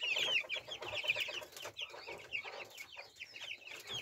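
Young Brahma chicks about two and a half weeks old, from bought eggs, cheep and cluck steadily and fairly close, a continuous busy twittering with no talk.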